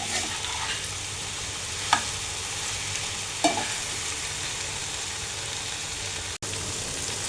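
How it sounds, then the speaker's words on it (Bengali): Okra frying in a pan on a gas stove, a steady broadband sizzle throughout with a few sharp stirring scrapes and clacks, close and continuous without talk. "তো ভাবলাম একটু ঢেঁড়স ভাজি করে নেই।"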